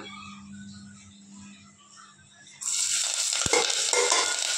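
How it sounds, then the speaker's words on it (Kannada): Onion, curry leaves and mustard seeds dropped into hot oil for tempering: quiet kitchen hum, then a sudden loud burst of steady sizzling and crackling with a sharp clink midway, close and without talk. "ಈರುಳ್ಳಿ ಮತ್ತು ಒಂದು ಸ್ವಲ್ಪ ಕರಿಬೇವು ಸಾಸಿವೆ ಅಷ್ಟೇ ಒಗ್ಗರಣೆಗೆ ಹಾಕ್ಕೊತಾ ಇದ್ದೀನಿ"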